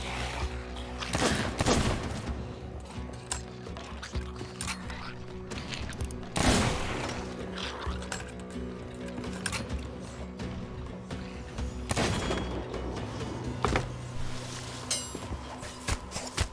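Sea of Thieves pirate gunfire in a naval fight: scattered shots and heavy booms at irregular intervals, a few standing out loud around a busy backdrop of game sound, with no one speaking.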